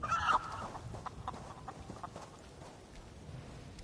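Chicken squawking and clucking in The Elder Scrolls Online, a brief burst near the start over a busy game soundscape, then fading into general background noise with no talk.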